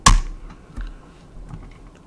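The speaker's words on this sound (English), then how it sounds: "So I'll just type in faxtoy.net right here." Keystrokes on a computer keyboard as a web address is typed, a few sharp clicks with one louder tap at the start and softer presses following, close and alone.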